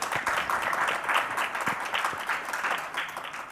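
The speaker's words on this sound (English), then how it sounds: "A round of applause, please." A summit and expo audience applauds a business guest, steady dense clapping filling the whole stretch at moderate loudness with no voices over it.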